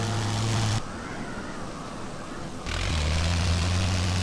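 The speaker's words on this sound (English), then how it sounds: "But I hear engines" Biplane engines in the World War I flight game Wings Over Flanders Fields: a droning propeller hum fills the clip, dipping to a muffled rumble midway before the loud drone returns.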